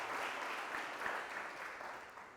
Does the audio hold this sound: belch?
no